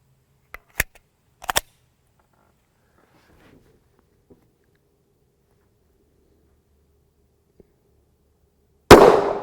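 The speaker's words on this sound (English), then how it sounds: "Grab a shot now from the 4-inch." A single sharp, loud 9mm pistol shot from a 4-inch barrel, firing 135-grain Federal Hydra-Shok JHP into ballistic gel, lands near the end after a few faint clicks and a long quiet pause.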